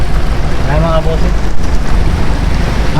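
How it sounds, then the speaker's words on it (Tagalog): Very heavy rain pours down steadily and loudly, a dense continuous roar with low rumbling underneath, while someone talks over it in Filipino at a car painting shop. "napakalakas ng ulan."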